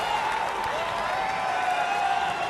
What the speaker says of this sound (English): He's applauded. The crowd goes wild.